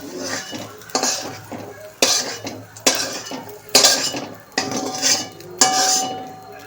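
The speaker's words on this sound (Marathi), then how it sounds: "आता आपण हे अंड, शिजलेलं अंड काढून घेणार आहोत एका प्लेटमध्ये." Cooked egg being scraped out of a pan onto a plate, with a series of sharp metal utensil scrapes and clinks in regular bursts roughly every second, close and clear.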